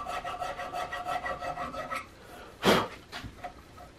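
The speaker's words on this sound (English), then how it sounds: "switching to this small round rasp" A small round rasp shaping the wooden stock of a Hawken rifle kit, giving steady rhythmic rasping strokes for two seconds, then a single louder scraping stroke followed by a couple of faint rubs, close up with no talking.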